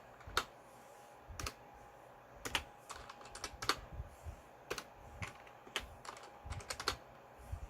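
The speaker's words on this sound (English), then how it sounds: "one-handed typing" Slow, uneven one-handed typing on a computer keyboard, soft scattered key clicks with irregular gaps in a quiet room, no voices.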